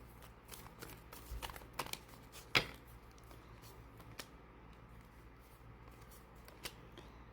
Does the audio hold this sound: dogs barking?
no